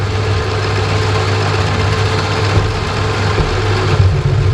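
A machine tool cutting copper at higher spindle speed, running as a steady loud mechanical hum with low droning tones and constant broadband noise throughout, no talk.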